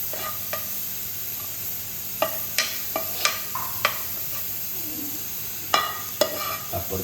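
Beef masala with plenty of pepper being stirred in a pan: irregular sharp scrapes and clinks of a utensil over a low steady sizzle, close by, without speech.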